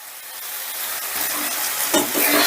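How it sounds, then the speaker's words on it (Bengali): Turmeric powder being stirred into sizzling onion, ginger, garlic and green chilli masala for a country chicken curry: a close, steady fry hiss with soft scraping stirs, swelling louder toward the end. "এবার হলুদের গুঁড়োটাও বেশ ভালো করে মশলার সাথে মিশিয়ে নেব।"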